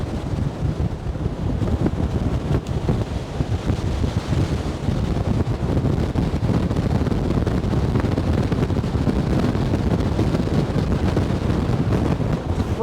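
Strong wind buffets the microphone on the open deck of the MSC Meraviglia cruise ship at sea amid big swells, a loud, steady low roar with gusty surges lasting throughout, no voices.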